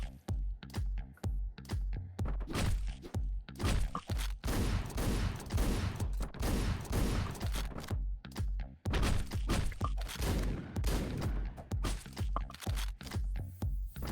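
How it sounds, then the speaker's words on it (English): Rapid bursts of gunfire and thuds from the top-down action video game Hotline Miami, punchy shots repeating in dense clusters throughout, loud and alone without talking. "it's mostly me shooting people, not the other way around."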